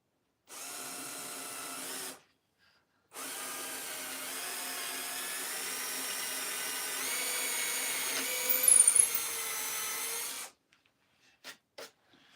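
A power drill bores holes into wood in a woodworking shop, whining steadily in two runs, a short burst and then a long sustained spin, followed by a few sharp knocks and handling sounds.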